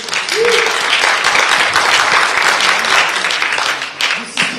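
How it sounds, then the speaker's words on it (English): A conference audience at a sustainability event gives loud, sustained applause, dense clapping filling the whole stretch at close range with a brief voice heard faintly beneath it. "Hardest applause I've heard since morning."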